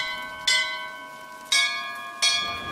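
Three bright bell strikes in the video game BioShock Infinite, each ringing out and slowly decaying with sustained metallic tones, evenly spaced about a second apart with no voices.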